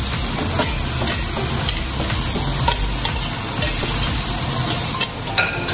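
Tomatoes sizzling in a hot frying pan with shallots while a spoon stirs them, a steady loud crackling hiss broken by repeated scraping strokes; no talking.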